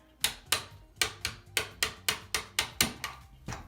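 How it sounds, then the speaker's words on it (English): A hammer taps a nail set against the bottom of a door hinge pin, about a dozen sharp metallic knocks in a steady, evenly spaced rhythm, close and clear with no talk. "Just take my hammer and just tap that from the bottom side here."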